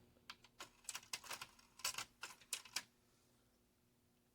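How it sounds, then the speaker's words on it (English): A test tape being pushed into a Sony TC-WR820A dual cassette deck, a run of sharp plastic clicks and clacks over a few seconds, close and fairly faint, with no talking. "I'm going to go ahead and pop the wow and flutter tape in"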